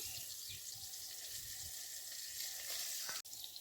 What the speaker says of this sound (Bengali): এখন কিন্তু বেগুন ভাজা হচ্ছে